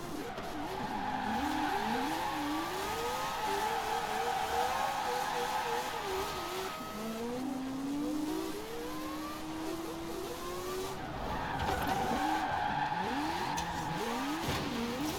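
A Mazda RX-7 Spirit R drift build in Forza Horizon 4 slides with long squealing tires over a steady engine drone and revs, skids rising and falling continuously and loudly.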